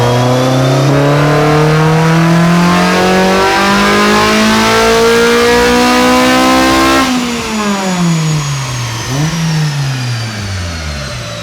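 A Honda Civic Type R clone with a K20R engine revs hard on a dyno, its loud rising howl climbing steadily for several seconds. It then drops off as the revs fall, with a brief blip before the engine settles lower.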